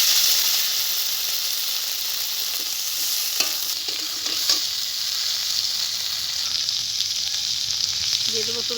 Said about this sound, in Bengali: এখন এই মাছ ভাজা তেলের ভিতরে আমি আলুটাকে ভেজে নেব।